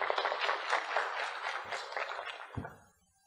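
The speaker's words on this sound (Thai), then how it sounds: "ขอเสียงปรบมือ" Audience applause at a seminar panel discussion, a dense wash of many hands clapping together, steady for a few seconds before fading away at the end.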